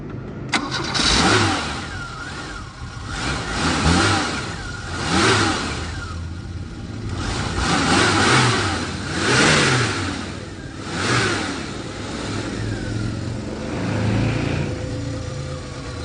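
An old Dacia 1410 Sport engine cranks and catches, then revs up and down in repeated surges, close and loud, settling between bursts.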